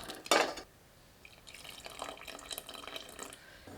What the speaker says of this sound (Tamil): இது கூட தேவையான அளவுக்கு புளி தண்ணி சேர்த்துக்கலாம்